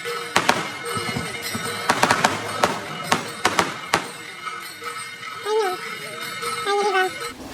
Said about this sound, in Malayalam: അപ്പതേ അപ്പുറത്തെ അമ്പലത്തിലും പടക്കം പൊട്ടണു